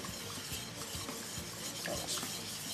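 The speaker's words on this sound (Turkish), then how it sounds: "gördüğünüz gibi şöyle biraz daha karıştırıyorsunuz" Béchamel sauce being stirred with milk in a pan for an oven-baked sauced pasta, a steady close scraping and swirling of utensil against pan with faint sizzling underneath.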